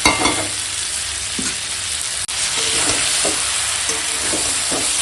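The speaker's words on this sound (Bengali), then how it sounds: "দেখো এরকম কষাচ্ছি" Spiced food sizzles loudly in a pan while being stirred and turned over, continuous frying hiss punctuated by scraping strokes of the spoon, with no talking.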